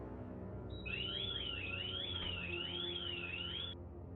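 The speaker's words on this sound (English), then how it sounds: "he opened a door that triggered an alarm" A burglar alarm set off by an opened door, a steady electronic tone jumping into a loud warbling siren that rises and falls in a repeating cycle for about three seconds, over a low background hum.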